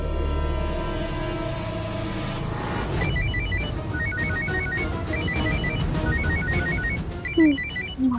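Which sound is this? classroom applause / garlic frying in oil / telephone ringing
telephone ringing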